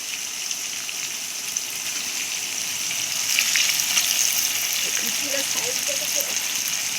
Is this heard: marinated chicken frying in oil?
yes